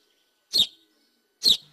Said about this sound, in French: Assenteur-mouchet